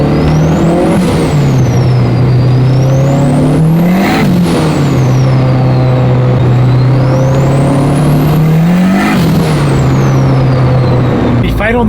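A turbocharged Honda Civic making about 600 wheel horsepower on 21 psi of boost roars loudly on a dyno, rising in pitch through repeated pulls with sharp shift breaks and turbo whine. Voices talk beneath it.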